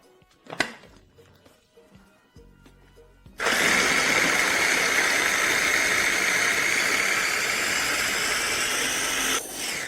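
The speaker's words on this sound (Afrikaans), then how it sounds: "ons gaan hierdie bestanddele deeglik meng totdat alles goed gemeng is en die tekstuur glad is" Corn fritter (perkedel jagung) ingredients mixed until smooth: quiet handling clatter gives way to a loud, steady motorized whir that runs unbroken for about six seconds until the end.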